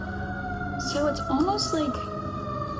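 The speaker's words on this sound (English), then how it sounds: "Those sirens came at an interesting time." Emergency vehicle sirens drift in through an open window, a steady wailing tone held under a person speaking close by indoors.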